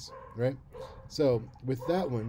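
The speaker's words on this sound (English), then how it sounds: "sorry about the dogs." Dogs bark intermittently in the background while someone speaks over them, several sharp barks and yips spaced a second or so apart.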